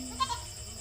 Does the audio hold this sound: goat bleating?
yes